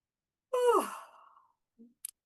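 A deliberate, exaggerated yawn during a guided brain-fitness exercise comes as one close breathy exhalation that opens loudly and trails off over about a second, followed by a brief soft sound and a faint click.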